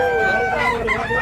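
A rooster, a big gamefowl offered at a sale, crows once, close and loud, in a short harsh call.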